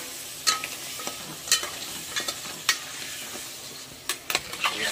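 Crabs sizzle in a pan of hot masala while being stirred, a steady frying hiss punctuated by several sharp scraping clacks of the spoon against the pan, close and clear with no talk.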